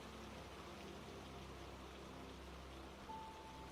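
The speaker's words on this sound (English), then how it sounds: "Feeling the rain patter softly against your skin." Soft, steady rain falling in a broad even hiss, close and continuous with no voices, a faint thin tone appearing briefly near the end.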